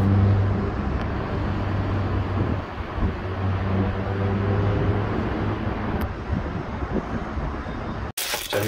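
Steady roadway traffic at Square One, a low continuous rumble of passing cars with some wind buffeting on the microphone, broad and moderately loud, with no talk and a brief cut near the end.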